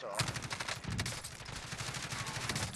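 Rapid gunfire from a Call of Duty Warzone match, including sniper fire, crackles as a dense, continuous burst of shots over steady game noise for a few seconds.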